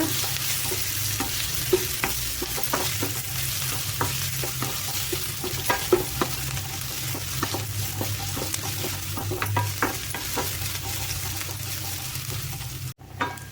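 Onions with curry leaves sautéing gently in a pan for a bottle gourd dish, a steady soft sizzle with frequent light stirring scrapes and taps throughout, close and continuous with no talk.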